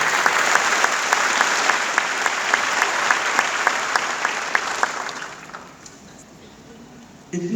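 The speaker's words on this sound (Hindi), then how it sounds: "तो जोरदार ताली आप लोग।" An audience at a company product event claps in loud, sustained applause for about five seconds before it tapers off to near quiet.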